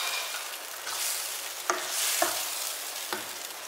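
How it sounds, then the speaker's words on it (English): A spoon stirs spaghetti sauce sizzling in a pan, giving a continuous close hiss of frying broken by a few sharp scraping knocks against the pan. "I keep on stirring."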